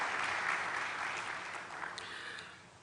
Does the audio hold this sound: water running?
no